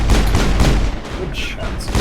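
Rapid, loud gunfire from the video game Mass Effect, a dense burst of overlapping shots with booming low end filling the short stretch.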